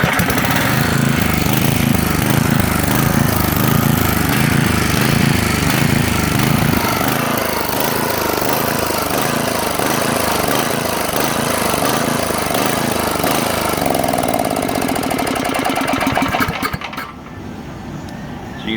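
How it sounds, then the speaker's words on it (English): A generator engine fitted with a Tecumseh carburetor runs loud and close, its pitch surging up and down in a steady, regular rhythm before the sound drops off near the end. "You can see it was surging pretty regular right there."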